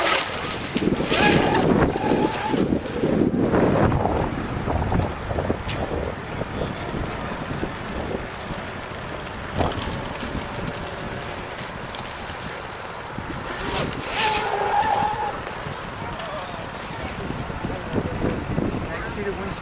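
Wind gusting around a boat out on open water, a steady roaring buffet against the microphone with surging waves and water movement, swelling and easing in strength throughout.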